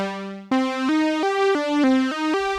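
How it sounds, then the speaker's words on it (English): Synthesizer lead through a low-pass filter with stacked unison voices, a slightly phasey tone stepping through a short melodic line of sustained notes, bright and close with no talking. "Other things that we can do here, by the way, is add unison voices."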